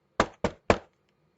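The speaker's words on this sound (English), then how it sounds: "just in time for a knock at the front door" Three firm knocks on a front door in quick succession, close and distinct against a quiet background.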